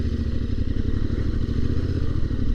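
A Suzuki GSX-8S motorcycle engine runs nearby at a steady idle, a dense low rumble with fast, even pulsing throughout.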